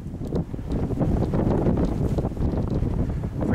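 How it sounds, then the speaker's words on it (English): Strong outdoor wind buffets the microphone beside an abandoned boat with a Johnson Evinrude 15 HP outboard, a loud low rumbling roar that gusts continuously throughout with no talking. "Forgive the wind, it's really windy today."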